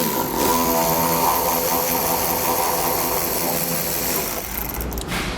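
A power tool, likely an impact driver or drill, spins out a 10mm bolt holding the taillight of a 2020 Jeep Wrangler, a steady loud whir running nearly the whole time before easing off at the end.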